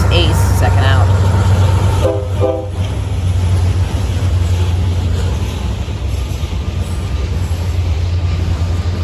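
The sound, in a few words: Norfolk Southern freight train passing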